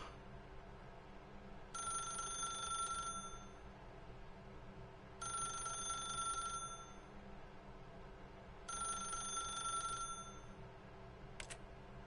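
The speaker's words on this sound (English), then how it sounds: "If you can truly place your faith in another, then pick up the phone." A telephone rings in The Stanley Parable video game, sounding in three bright, evenly spaced bursts of about a second each, clear and fairly close over a quiet background hum.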